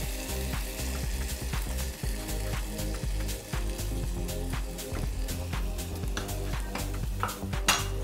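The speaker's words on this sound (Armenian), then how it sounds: "Խառնում եմ։" Spoon stirring a tomato and meat sauce in a pan, with repeated scraping and clinking against the metal over a steady sizzle, close and continuous.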